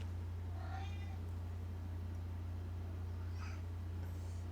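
A house cat meows twice, a couple of seconds apart, each a faint rising-then-falling call heard over a constant loud low hum.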